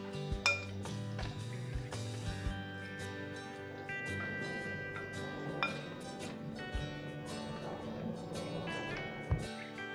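Chicken wings being mixed with oil in a bowl, giving steady clinks and scrapes of a utensil against the dish for about ten seconds, fairly quiet and close, with a few sharper knocks.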